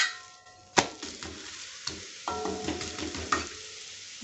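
A wheat-flour dosa cooks on a hot pan, a soft sizzle and frying hiss broken by several clicks and scrapes of a spatula, close and fairly quiet.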